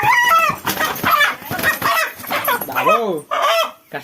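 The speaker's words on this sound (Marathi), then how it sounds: "हा आपला फायटर हा फायटर कोंबडा आहे त्याचं नाव आहे मुस्टिक" A fighter rooster named Mustik clucks and calls close by at a village poultry yard, its harsh, repeated vocalizations mixed with someone talking over them.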